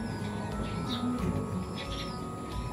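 A tiny pigeon chick of Taiwan parent stock gives a few faint, high chirps in a loft. The thin, soft peeps sit over a low background hum, with no voices over them.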